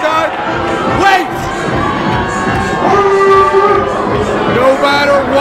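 A wrestling show crowd shouts and cheers in loud, overlapping bursts, voices rising and falling in waves throughout with scattered individual yells standing out.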